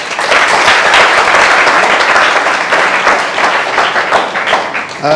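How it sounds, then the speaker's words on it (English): Lecture audience claps for a university speaker, loud dense applause sustained for several seconds and tapering slightly near the end, with no talking over it. "So join me in giving him a round of applause."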